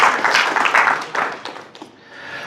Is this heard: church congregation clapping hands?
yes